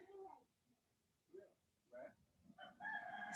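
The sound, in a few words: cockerel crowing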